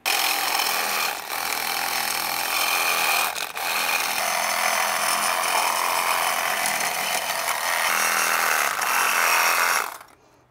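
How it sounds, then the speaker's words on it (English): Little hacksaw cutting EMT conduit, a close, steady rasping of back-and-forth strokes with two short pauses, ending abruptly as the cut finishes. "I can go after it with my little hacksaw"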